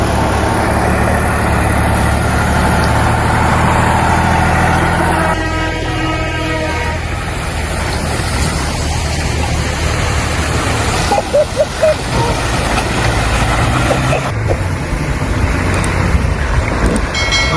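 Heavy trucks plough through deep mud and water, engines roaring loudly and continuously with sloshing and churning, a horn-like toot partway through and a voice talking over the din.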